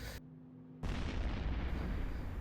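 Missile hits land on a ship in the space game Eve Echoes: a short tone cuts off, then after a beat a heavy explosive boom erupts and rumbles on loudly to the end.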